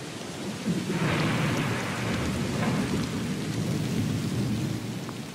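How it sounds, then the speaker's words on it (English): A thunderstorm with heavy rain beating steadily throughout and a deep rumble of thunder rolling in loudly after the first second, with no voices. "As the storm intensifies, thunder and lightning drown out the relentless beating rain."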